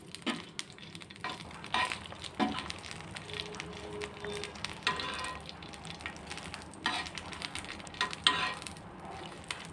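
Grated coconut and coriander fry in two spoons of oil in a pan, giving a continuous crackling sizzle with uneven pops and scraping stirs, heard up close with no talking.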